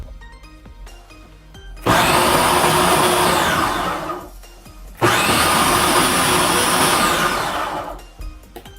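Mixer grinder pulsing oats flour for puttu in two loud, steady bursts of whirring motor noise, each lasting about three seconds, with a short pause between them and no talking.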